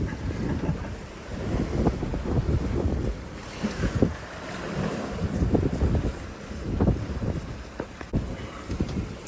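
A sailboat glides past an island under strong wind, with buffeting gusts across the microphone and the low wash of waves against the hull, loud and steady with no talk.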